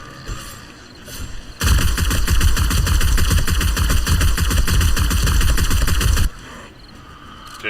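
A 9mm gun in 7 Days to Die fires a long rapid burst of shots, loud and close, that starts abruptly and stops after about five seconds, with quieter ambience before and after.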